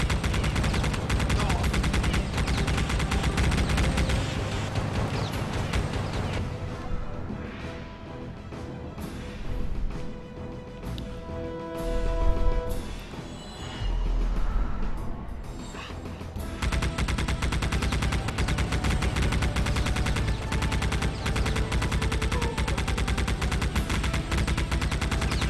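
Mounted guns firing in the video game Geist, loud continuous rapid gunfire that pauses briefly midway, with a voice talking faintly under it.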